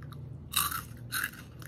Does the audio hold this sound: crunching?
yes